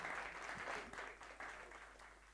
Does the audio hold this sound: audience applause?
yes